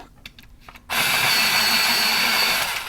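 A pencil sharpener bites into a Lyra colored pencil, a bright, steady grinding whir that starts abruptly after a second of faint handling noise and runs to the end.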